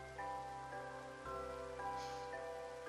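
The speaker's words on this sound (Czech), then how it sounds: "Tak jo, prší, je noc." Steady, even rain hiss fills a night scene in the Minecraft video game, a constant close wash of falling drops running throughout under tonal background music with no talking.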